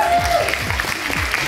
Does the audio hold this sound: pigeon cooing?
no